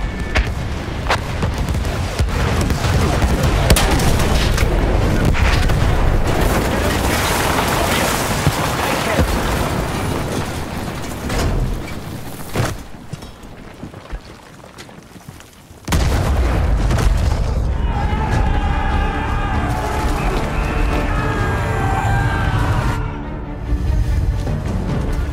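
An artillery barrage thunders through a Battlefield 1 battle scene, with repeated heavy booms and rumbling blasts. Voices talk over the explosions, which fade briefly before another loud burst of fire.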